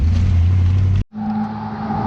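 A C3 Corvette's engine runs loud and close with a steady deep rumble, cutting out for a moment just after one second, then idling back with a lower, even drone.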